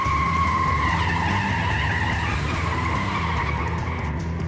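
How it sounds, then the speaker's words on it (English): A truck's tires skid loudly on pavement, a sustained, harsh squeal over a rumbling engine that holds steady for several seconds and fades only slightly at the end. "Taylor, just stop the truck, okay?"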